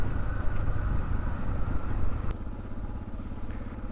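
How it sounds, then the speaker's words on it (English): A motorcycle rides along a gravel road in Kyrgyzstan, its engine droning steadily amid constant crunching and rumble from the loose surface, with one brief clatter partway through. "Just trying to keep my motorcycle steady with this gravel here."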